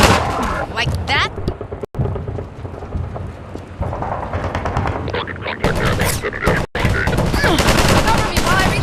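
Dense Half-Life 2 gunfire with rapid overlapping shots and booming blasts, loud and continuous with brief dropouts, as voices talk over the combat.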